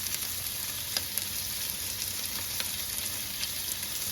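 Chicken and sausage pasta frying in a pan over medium heat, a constant bright sizzle with faint occasional stirring clicks, moderately quiet and with no talking.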